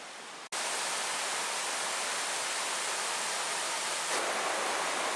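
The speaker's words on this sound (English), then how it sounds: "I love sleeping next to that little waterfall over here." Small waterfall rushing beside a tent at night in the Porcupine Mountains, a steady, loud broadband wash of falling water after a brief quieter opening.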